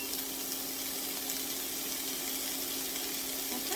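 Onions fry in a small knob of butter, making a soft, steady sizzle with a constant hiss and no voices.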